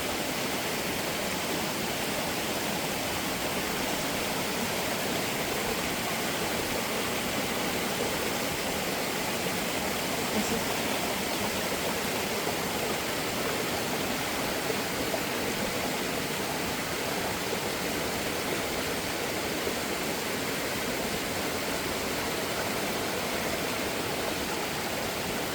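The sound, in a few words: mountain torrent rushing water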